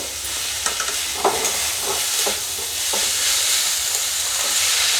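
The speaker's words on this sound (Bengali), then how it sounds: "এখন আমি বাঁধাকপিটা দিয়ে দিলাম বাঁধাকপিটা দিয়েও আমি ভালো করে কষিয়ে নেব" Cabbage stir-fried in a pan with a splash of water, a dense hissing sizzle close by with a few spatula scrapes and knocks against the pan, growing slightly louder toward the end.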